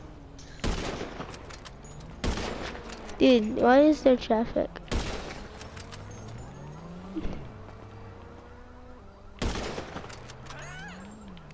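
Bursts of gunfire aimed at empty cars in GTA Online crack out several times at irregular intervals, sharp and loud, with a horn and engine sounds between them while a player talks.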